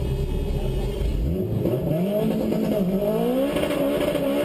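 A car engine revs hard while held stationary on the handbrake, the pitch climbing and falling in repeated sweeps, loud and close with a steady roar throughout.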